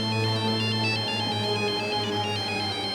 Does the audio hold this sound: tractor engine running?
no